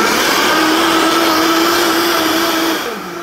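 A blender whirs loudly as it mixes Tex Mex Dutch baby batter, a steady motor drone with a whining hum that winds down at the end.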